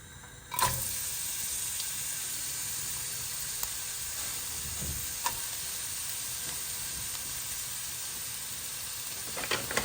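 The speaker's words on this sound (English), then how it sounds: "Then I'm going to add the onions." Onions hitting a hot pan of rapeseed oil start a sudden loud sizzle that holds steady, with occasional faint clinks and stirring sounds, no talking.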